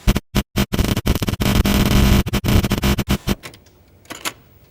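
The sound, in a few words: computer-coded music cassette playing on conventional machine, data noise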